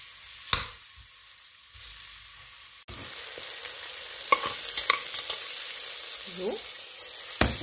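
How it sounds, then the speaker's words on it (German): Vegetables searing in hot oil in a pan for a carrot stew, a quiet start with a few knocks, then a steady close sizzle with occasional stirring clatter. "Scharf anbraten das Ganze."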